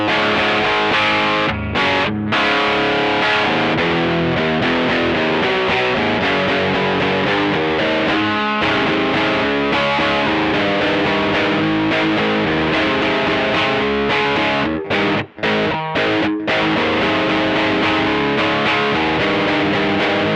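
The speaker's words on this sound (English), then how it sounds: "So I'm just going to run through a few more straight ahead dirty tones now." Heavily distorted electric guitar through a TC Electronic Dark Matter distortion pedal, humbucker pickup, plays continuous rock riffs and chords, thick and loud, with a couple of brief pauses.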